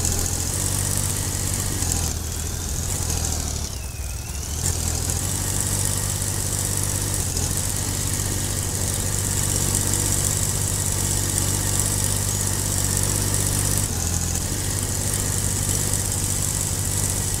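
A Swaraj 855 tractor engine in Farming Simulator 22, droning on steadily at a constant pitch with a slight dip partway through, loud and close with no voices.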